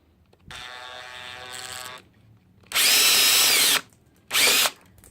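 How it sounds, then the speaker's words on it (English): Three bursts from an electric drill drilling a hole for relocated scooter handlebar controls: a lower whirring run, then two loud high-pitched drilling spurts as the bit cuts through, close and isolated. "let the drill bit do all the spinning"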